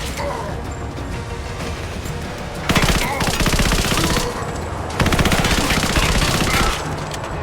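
Bursts of rapid automatic gunfire in Rise of the Tomb Raider, two loud sustained volleys of machine-gun fire cutting over background game sounds and ambience.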